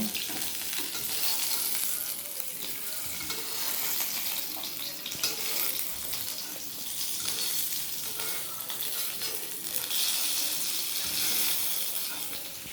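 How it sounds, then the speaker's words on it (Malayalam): Fish frying in hot oil in a pan gives a steady, close, bright sizzle with crackling spatter that runs unbroken throughout, with only slight swells and no voices. "എന്തായാലും ഇത് കണ്ട് പൊരിയട്ടെ, ഒരു സൈഡെങ്കിലും പൊരിയട്ടെ"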